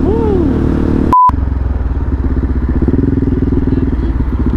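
A motorcycle engine runs steadily and close, a continuous loud rumble broken briefly by a single electronic beep, with a few vocal sounds at the start.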